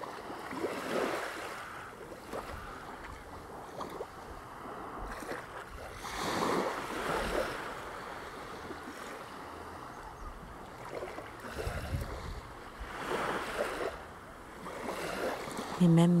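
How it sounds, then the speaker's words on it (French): Gentle water laps on a beach in soft, recurring washes a few seconds apart, quiet and fairly close, with light wind in the background. "Le clapotis de l'eau."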